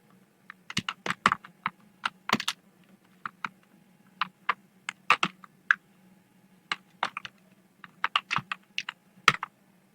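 Typing on a computer keyboard in bursts of quick, close clicks with short pauses between them, set against a low steady hum and with no talking.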